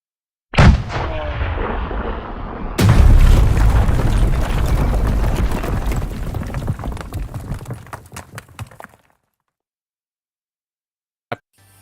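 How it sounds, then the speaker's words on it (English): A bomb explosion sound effect opens with a sharp blast and then a second, heavier boom that rumbles and crackles with debris for several seconds before cutting to silence, ending with one brief faint click. "Well, it's a bomb. Oh, it's a bomb."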